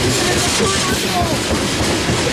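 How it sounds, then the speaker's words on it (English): A westbound ethanol freight train rolls past nearby, loud and steady with a continuous rumble and wheel clatter. Its noise fills the whole stretch with no break. "Yep, westbound ethanol train, easily."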